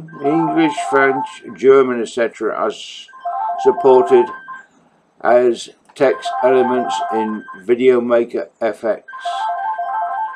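A telephone rings repeatedly in the background with a steady electronic tone, recurring in regular bursts beneath someone talking continuously in the foreground.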